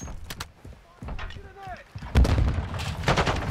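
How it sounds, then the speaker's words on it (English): Gunfire in a military shooter video game, scattered sharp shots early followed by a heavy blast and a dense roar of gunfire, with radio-style voices speaking over the action. "I'm taking fire!"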